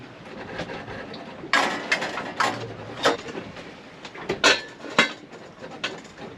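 A Wonder Pan on a sailboat stove being handled, with a string of sharp metallic clanks and rattles at irregular intervals, close and fairly loud, no voices.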